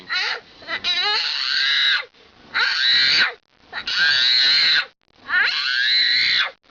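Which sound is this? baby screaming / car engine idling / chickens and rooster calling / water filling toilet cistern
baby screaming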